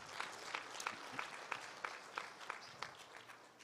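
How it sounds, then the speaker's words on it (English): Congregation clapping during a church sermon on Christian purpose, a faint, rhythmic run of hand claps roughly every third of a second, distant and quiet. "Clap for Jesus."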